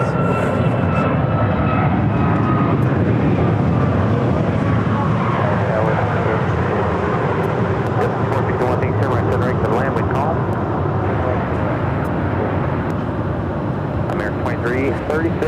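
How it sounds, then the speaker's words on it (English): An Air France Boeing 777-200ER lands at Phoenix airport on runway 8, its jet engines a loud, steady broadband roar that gradually eases, with a voice talking over it. "That was the Air France 777-200ER coming in from Paris, arriving on runway 8 on the north side."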